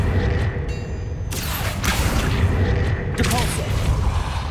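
Accio spell cast in Hogwarts Legacy, a loud whooshing burst with booming, rumbling impacts that repeat several times in quick succession.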